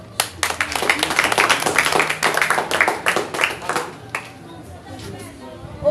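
An audience at a Haitian children's variety show applauds loudly, dense clapping with scattered crowd chatter that thins toward the end before a final burst.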